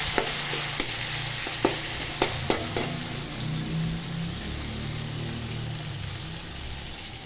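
Chopped tomatoes with asafoetida sauté in a pan for a simple breakfast, a steady soft sizzle broken early on by a few sharp clicks of a spoon scraping the pan, then settling into continuous frying hiss.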